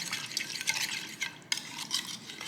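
A sugar and garlic marinade stirred in a bowl, soft wet clinks and swishes in an irregular rhythm, quiet and close with no talking.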